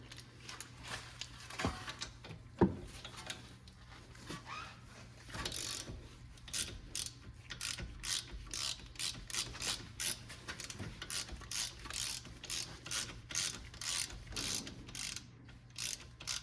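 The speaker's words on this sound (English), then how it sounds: "we're going to go ahead and loosen the 13 millimeter bolts in the back" Ratchet wrench loosening 13 mm rear brake caliper bolts on a 2018 BMW M550i, a long run of rapid, evenly spaced metallic clicks up close, steady and unbroken, with no talking.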